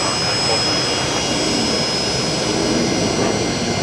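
A Nauru Airlines jet takes off at Brisbane Airport, its steady, loud broadband engine roar filling the air without a break and nearby voices talking over it.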